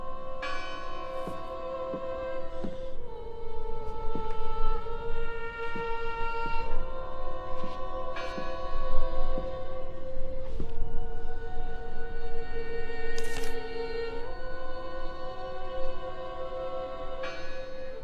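A church bell tolls in the Nordic mystery game Draugen, with repeated ringing strikes whose long, shimmering overtones overlap and hang in the air, heard fairly near over a faint ambient bed.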